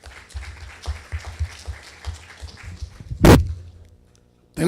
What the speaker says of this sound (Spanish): a quien le recibimos también con un voto de aplauso